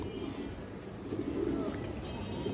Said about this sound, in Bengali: পালার লাইনের একটা লাল চুল্লি নর কবুতর আছে